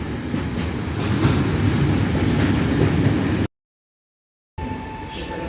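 Pesa Elf 2 electric multiple unit pulling into Bydgoszcz Główna station, a loud steady rumble of wheels and rail noise with faint clicks, cut by a second of silence before a quieter tail with a high tonal whine.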